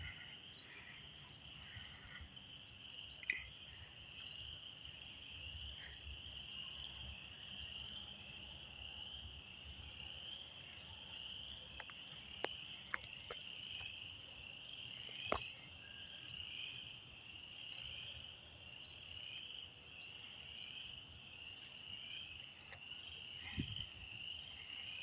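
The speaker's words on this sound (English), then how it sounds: "All of a sudden, like every cricket in the neighborhood just went off." A neighborhood at night fills with a dense, continuous chorus of crickets and croaking frogs, a steady shrill trill with scattered nearer chirps and faint clicks, no voices.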